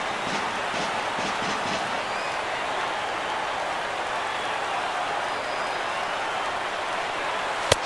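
A baseball crowd of more than 37,000 at a White Sox–Royals game rises to its feet, giving a steady, broad roar of cheering and applause that holds for the whole span.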